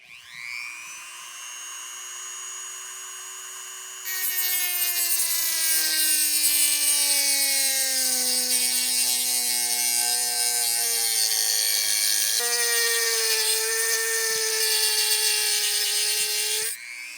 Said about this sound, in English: So we're going to use a little pry bar, get our Dremel in there, and show you how it's done.